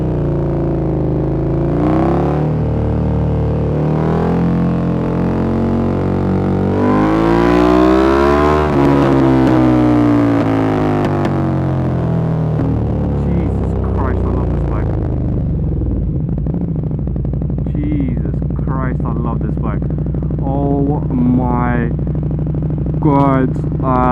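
A KTM Superduke 1290 R motorcycle engine revs loudly, its pitch climbing and falling in sweeps before settling, with people talking over it.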